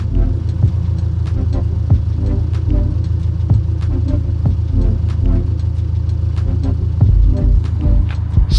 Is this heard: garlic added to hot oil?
no